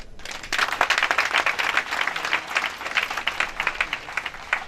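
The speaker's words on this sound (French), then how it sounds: "Acclamons-les." Sustained applause from a crowd gathered at a graduation ceremony at CAFEM, dense steady clapping holding at an even level for several seconds with no break.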